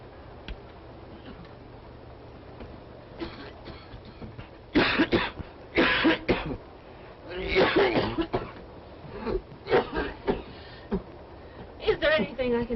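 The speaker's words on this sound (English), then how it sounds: "Can you hear that poor man coughing?" A man coughs in harsh repeated bursts aboard a train in a 1933 film, several loud fits separated by pauses over a low steady rumble.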